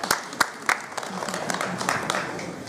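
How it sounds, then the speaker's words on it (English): A crowd applauds at the Heritage Race in Balestier, a few sharp claps up front, then lighter scattered clapping, with voices talking over it. "a great applause to yourselves as well, our speakers"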